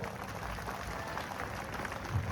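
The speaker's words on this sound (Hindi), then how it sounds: "उन सबको एक बार तालियों से अभिनंदन करिए दोस्तों" Audience applause fills a World Tribal Day community event in Dungarpur, Bhil Pradesh, a steady wash of many hands clapping at moderate volume that carries unbroken to the end.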